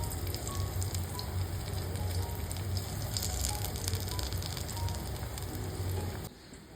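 Alu vadi, colocasia leaf rolls, deep-frying in hot oil, giving a steady, loud, dense sizzle and crackle that runs unbroken before dropping away abruptly near the end.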